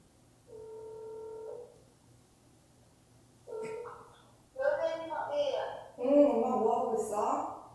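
A telephone gives a short burst of steady dialing tone, followed by a pause. Then close voices of people talking on the phone take over.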